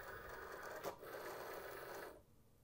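A Cricut Explore Air cutting machine draws in the cutting mat, giving a soft mechanical whir and feed rattle that cuts off abruptly near the end, fairly quiet with no talking.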